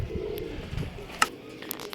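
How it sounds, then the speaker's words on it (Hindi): A young Sialkoti pigeon coos softly and close by in a few low, murmuring phrases, with faint clicks and rustles around it. "सियालकोटी कबूतर है"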